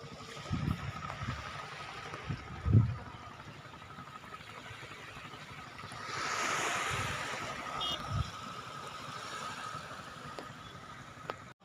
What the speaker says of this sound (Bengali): এখন একটু সমুদ্রের ঢেউ বোঝা যাচ্ছে।